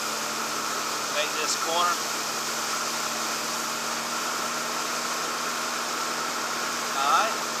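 A Sea-Doo Wake 215 personal watercraft engine runs with a steady, broadband roar and whine on open water, holding constant throughout while someone speaks briefly over it.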